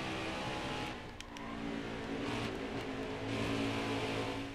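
Race car engine in Nascar Heat 4, droning steadily with the throttle rising and easing as the driver feathers it. The engine is loud and continuous, with no speech.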